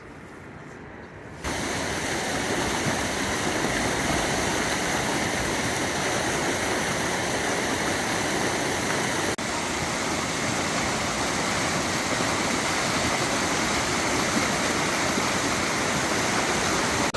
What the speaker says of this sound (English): at the end of this little river here is the falls